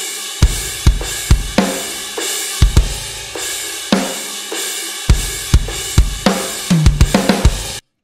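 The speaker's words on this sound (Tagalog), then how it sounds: "let's solo the drum performance and see" Soloed rock drum performance from a song, with punchy kick and snare hits in a driving pattern under cymbal wash, ending in a quick fill before stopping.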